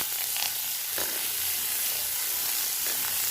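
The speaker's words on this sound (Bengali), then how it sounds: "ওই তেলে দিয়ে দিব পেঁয়াজ কুচি" Chopped onion frying in hot oil left over from frying fish, giving a steady, even sizzle and hiss that continues throughout with no voices.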